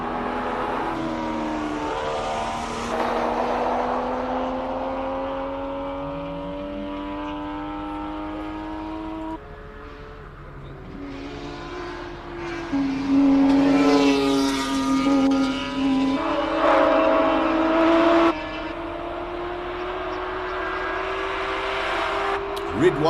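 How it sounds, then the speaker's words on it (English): Race cars on the Simola hillclimb track rev up and down through the gears, their engine pitch rising and falling as they pass, under steady live commentary. "Sean McKay and Dayan Padiachi out on track, both in the A5 category."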